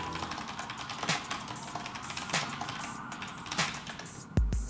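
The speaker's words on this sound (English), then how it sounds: "Is my keyboard loud enough for you?" Fairly quiet clicking of a computer keyboard during an iPhone programming session, scattered keystrokes with a few sharper taps and a louder knock near the end.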